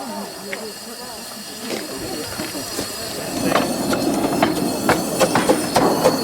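A Ravenglass and Eskdale Railway train is being turned round for its return run, with hissing steam and clanking rail noise. The sounds are moderately close, with sharp knocks growing busier toward the end, and people talk faintly in the background.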